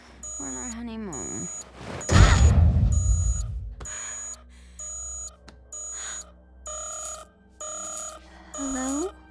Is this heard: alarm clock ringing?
yes